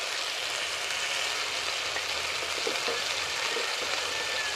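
A spice masala of poppy seed paste, cashew paste, salt, turmeric and chilli powder frying in a pan for butter paneer, an even, steady sizzle that runs without a break and with no talking.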